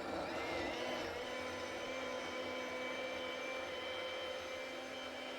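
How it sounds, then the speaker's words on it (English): A regular kitchen blender runs steadily on macadamia nuts and water, giving a loud, continuous motor whine with a churning roar that holds unbroken throughout, with no talking. "And we're going to just turn the blender on."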